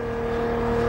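Steady car engine drone with a constant whir from a sports car in the racing game Test Drive Unlimited 2, holding an even pitch and loud level throughout the short stretch with no speech.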